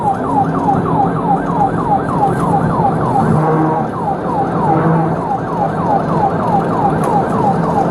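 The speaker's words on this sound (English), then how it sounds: "The officer turned around, activated emergency lights and sirens" A police car siren wails in a steady, rapid up-and-down cycle throughout a high-speed dashcam pursuit, loud and close, with road and engine noise underneath.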